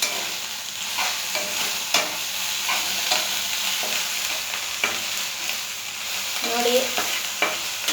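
Okra frying in a little oil while it is stirred, with a steady sizzle and repeated scraping strokes of the spoon throughout, close and fairly loud.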